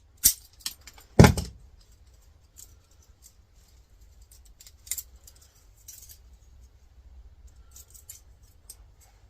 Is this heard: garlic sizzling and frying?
no